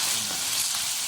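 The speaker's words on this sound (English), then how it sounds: "That is getting sizzly" Chopped celery and carrots frying in a pan for a stew: a close, continuous crackling sizzle, steady and even for about a second.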